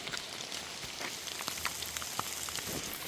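Steady rain falls on a hiking trail along the Appalachian Trail, a dense, even patter of drops with sharper close taps scattered throughout, heard alone with no talking.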